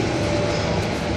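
A double-decker passenger train rolls past at close range in Austria, a dense, steady rumble of wheels and carriages holding loud throughout the short moment with no voices.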